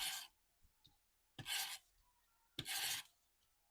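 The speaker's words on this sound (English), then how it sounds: "I just turn it over and give it a good back rub." Three separate brisk rubbing strokes on the back of a cardmaking piece, each a short dry rasp with quiet pauses between, close and fairly soft.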